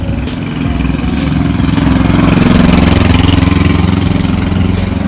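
A modified Royal Enfield Bullet 350 BS6 motorcycle engine runs loud and close, a steady low thumping idle that swells slightly and holds a dense, rumbling tone throughout.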